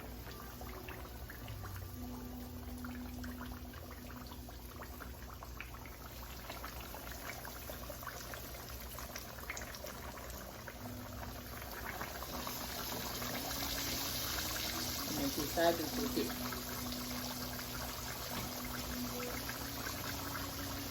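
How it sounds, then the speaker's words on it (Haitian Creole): Flour-dusted fish frying in hot fat, a steady soft sizzle and bubbling that runs throughout and swells louder in the second half, with a brief spoken aside near the start. "Donc on va le déposer une par une dans graisse là."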